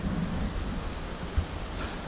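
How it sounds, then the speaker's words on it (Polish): Steady broadband roar of a waterfall beside a glacier snout on the approach to Kazbek, a constant wash of rushing water blended with wind, heard alone without voices. "Obok też wodospad."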